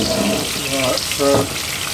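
Fish for escovitch frying on high heat in a big frying pan, a steady crackling sizzle with a faint voice over part of it.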